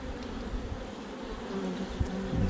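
Honeybees buzz steadily at a crowded hive with drone brood, a dense continuous drone close by with no talk.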